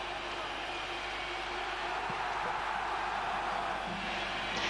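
Football crowd in Riga cheering wildly at a match against Turkey, a dense, sustained roar of many voices filling the stadium, loud and continuous throughout.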